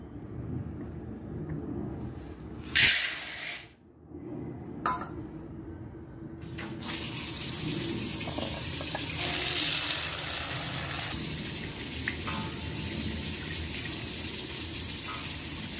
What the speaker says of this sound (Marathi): आता मी पुढच्या डाळी धुवून घेते.